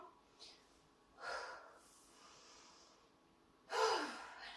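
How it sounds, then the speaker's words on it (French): Heavy breathing follows an exercise set in a home workout, with a few loud gasping exhales and snorts separated by quiet pauses, close to the microphone. "On va reprendre bien sa respiration."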